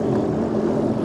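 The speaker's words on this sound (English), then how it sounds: "Let's put that drone away." A camera drone flies over a lake on a boating outing, giving a loud, steady propeller whine and buzz with no pauses.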